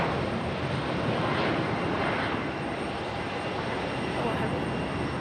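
A Boeing 737 jet taking off down the runway, a distant, broad, steady engine roar that swells slightly and holds, heard from the airport perimeter with no talking.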